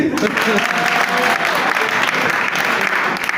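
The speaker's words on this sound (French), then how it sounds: "On applaudit." Loud, dense applause from a comedy-show audience, continuous clapping with a faint voice underneath.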